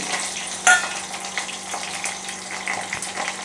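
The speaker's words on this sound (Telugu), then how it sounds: "అవి వేగేదాకా వెయిట్ చేద్దాం." Chopped onions and green chillies fry in a pan of oil alongside cinnamon and cloves, giving a steady, close sizzle with a sharp spattering pop near the start.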